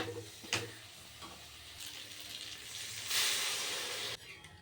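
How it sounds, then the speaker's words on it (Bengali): Water poured into a pan of fried paneer and papad curry masala sets off a loud rush of sizzling and hissing steam that swells partway through, above a steady frying crackle, then abruptly settles back. "দেখো কষানো হয়ে গেছে এবার জল দেব"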